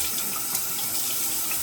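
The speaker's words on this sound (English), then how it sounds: "gonna rinse my head" Tap water running steadily into a sink for rinsing the head after shaving, a close, even hiss and splash throughout with no pauses.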